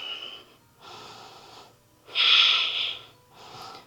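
Heavy, close breathing during a vinyasa yoga workout: four strong breaths in and out, the third loudest and most forceful, with no talking.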